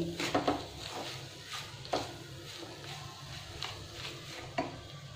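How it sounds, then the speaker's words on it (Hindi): Chocolate barfi mixture roasting in ghee in a pan, stirred continuously with scraping spoon clatter and soft knocks against the metal over a low sizzle, no talk. "अच्छे से भुनते रहिए कंटिन्यू उसको अच्छे से भून लेंगे कंटिन्यू चलाते रहेंगे"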